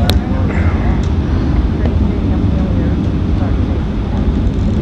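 Space Shuttle Endeavour's three liquid-fueled engines at full throttle during launch, a dense continuous roar heard from a distance, steady and broadband with a commentator's voice over it.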